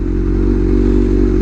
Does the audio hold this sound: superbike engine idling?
yes